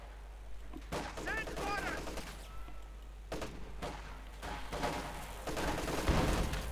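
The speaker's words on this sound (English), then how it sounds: "More righteous machine gun fire" Machine gun fire in a Company of Heroes 2 match, heard as rapid crackling bursts and scattered shots set among other battle sounds, fairly faint and mixed with a low rumble, with no talking over it.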